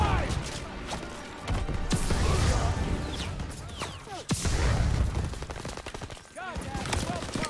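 Heavy continuous gunfire from the Call of Duty WWII campaign, with dense rifle and machine-gun volleys and impacts during a battle against German troops, loud and sustained, with shouted voices mixed in.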